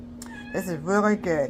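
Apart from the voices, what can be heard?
cats meowing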